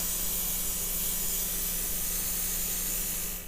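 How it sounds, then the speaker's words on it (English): A steady airbrush hiss of paint spraying, continuous and close, with a faint hum underneath, cutting off at the end. "you can spray it"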